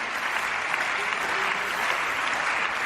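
Parliament members in the German Bundestag applaud from their benches: a continuous, even wash of many hands clapping at moderate loudness, without speech over it.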